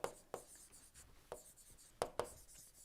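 Chalk or marker writing on a board during an engineering lecture, a series of soft tapping strokes and short scratches at irregular intervals, close and quiet with no talk.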